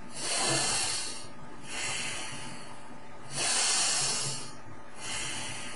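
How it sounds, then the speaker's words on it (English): Powerful nasal breaths in a chest-focused warrior breathing exercise: two forceful cycles of air rushing in and out through the nose, close and airy, each inhale and exhale a loud hissing surge with short lulls between. "it's going to be a powerful inhalation, and we're going to direct that energy, that air, to the chest"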